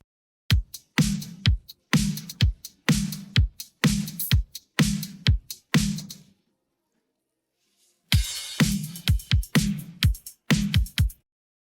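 A drum kit separated from a mix with Logic Pro 11's Stem Splitter plays alone in a steady groove of kicks, snares and cymbals, stops for about two seconds, then comes back in.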